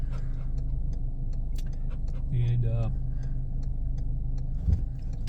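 Inside a car in traffic, a steady low engine and road rumble with a ticking indicator, while people talk over it and a dog whines briefly.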